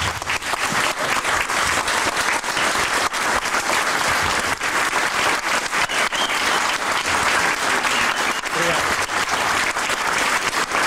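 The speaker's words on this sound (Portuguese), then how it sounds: "Um forte aplauso ao Dr." A large audience gives loud applause to a doctor after a talk, a thick, continuous roar of clapping that holds at full strength, with faint voices mixed in.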